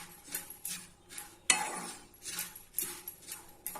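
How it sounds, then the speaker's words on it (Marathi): A spoon stirs a raw mango and dried prawn chutney mixed with red chili powder and salt in a bowl, giving soft irregular scrapes and one sharper clink, close and quiet with no talk. "तर आता हे सगळं मिश्रण आपण एकत्र करून घेऊया"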